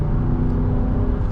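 A Ram 1500 Laramie's naturally aspirated HEMI V8 accelerates under load, giving a loud, deep, continuous rumble heard close up from inside the cab.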